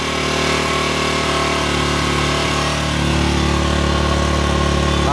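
Skygo King 150cc motorcycle engine idling steadily and loudly at close range during carburetor tuning, a continuous rhythmic putter that rises slightly in pitch partway through.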